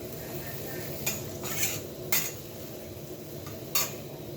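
Tofu and egg being stir-fried in a pan, a steady low sizzle broken by four or five sharp scrapes and clinks of a utensil against the metal, close and moderately loud.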